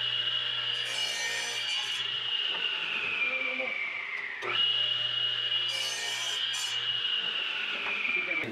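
A hand saw cuts through wood in steady, continuous rasping strokes, loud and close, with a high scraping tone that dips briefly midway before the cutting resumes.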